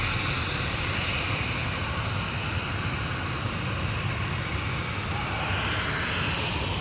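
A Jet2 Airbus A330 airliner at Manchester Airport produces a steady, broad engine roar that swells slightly and holds loud throughout, with no voices over it.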